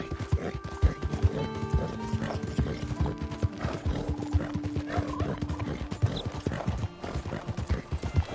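A horse in the Red Dead Redemption 2 video game gallops with rapid, steady clip-clop hoofbeats and lets out neighs and whinnies, close and fairly loud.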